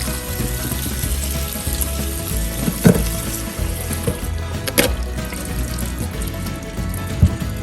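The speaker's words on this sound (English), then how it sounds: "I'm going to run some cold water over them because I want to get rid of all the starch that's in there" Cold water running from a tap over drained noodles, a steady close splashing wash with a few clanks of the pot or colander.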